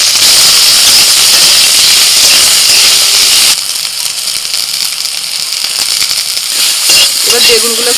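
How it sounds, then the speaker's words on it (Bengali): Eggplant pieces fry in hot oil in a home kitchen, giving a loud, steady sizzle that drops to a softer crackle partway through, with a voice briefly heard near the end. "এবার বেগুনগুলোকে একটু ভেজে নেব।"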